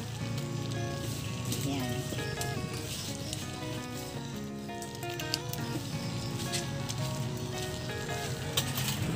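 Onion, garlic and ginger sauté in a pan, giving a steady, close sizzle throughout. It plays under a tonal background and a brief spoken word.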